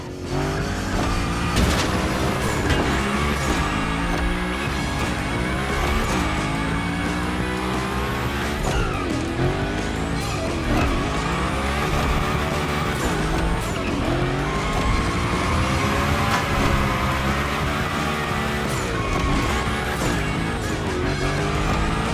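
Hoonigan car in The Crew Motorfest racing game, with engine roaring and tires squealing through drifts and tricks, loud and continuous with constantly shifting revs and skids, no talking.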